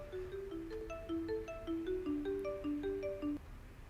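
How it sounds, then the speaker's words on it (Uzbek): A mobile phone rings with a clear, melodic electronic tune of stepped tones, repeating steadily at moderate volume, with no talk over it. "Mana telefon ham qilishyapti."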